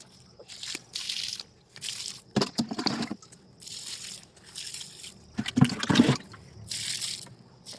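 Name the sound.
water being poured on plants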